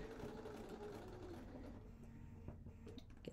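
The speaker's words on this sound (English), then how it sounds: "So let's sew that." A home sewing machine runs steadily while stitching quilting fabric for a cathedral windows block, a faint continuous whir with small mechanical ticks near the end, no voice over it.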